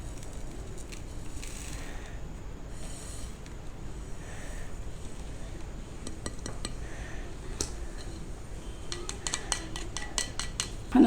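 A spoon stirs spices into milk in a bowl, with soft scraping and light clinks of metal against the dish, quiet and intermittent, then a few quicker taps near the end.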